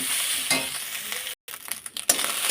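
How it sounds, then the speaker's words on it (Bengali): Leftover cooked rice stir-fried with salt in a pan makes a soft, continuous sizzle with scraping stirs. A brief silent gap cuts in midway, then the hiss resumes with a louder scrape near the end. "প্রয়োজন মতো নুন দিয়ে দিলাম, দিয়ে ভালো করে এবার ভাজা ভাজা করে নেব।"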